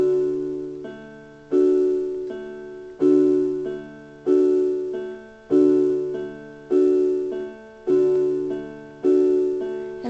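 A piano repeats a pattern, a full chord struck and then a single top note, alternating in a steady rhythm about twice per second, each strike ringing with sustain, close and clear, no voices.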